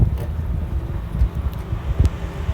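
Gusty wind buffets the microphone outdoors in a busy Las Vegas neighborhood, a rumbling low roar rising and falling in uneven bursts with faint traffic-like noise beneath.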